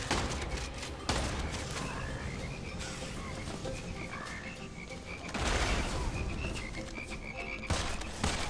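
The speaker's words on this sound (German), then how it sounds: "Frösche, ne?" Frogs croak repeatedly in the first-person shooter game Immortal Redneck, a chorus of ribbits over dense, loud game noise with rumbling booms and sharp bursts throughout.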